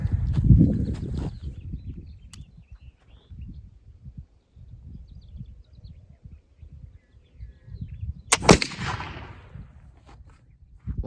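A single sharp flash-off of sodium nitrate black powder in a test shot sounds as one sudden whoosh midway through, with quiet rustling and handling noises around it.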